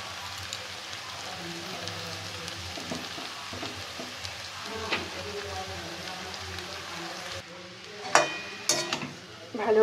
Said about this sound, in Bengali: এবার আস্তে আস্তে চাউমিনটা অ্যাড করবো।